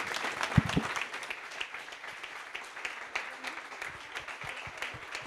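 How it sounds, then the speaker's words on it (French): An audience applauds steadily for several seconds, a dense wash of many hands clapping in a room, with a few louder nearby claps early on. "Je pense qu'on peut les applaudir."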